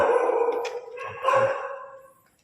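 Close, loud barking and yelping from a dog in an abandoned Japanese food court at night, running on in a continuous, howl-like stretch before fading out.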